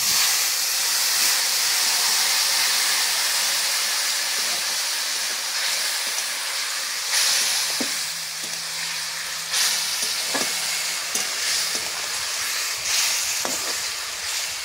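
A bottle gourd vegetable curry hits hot mustard oil in a pan, giving a loud, steady hissing sizzle with steam that eases slightly while occasional stirring clinks and scrapes break through.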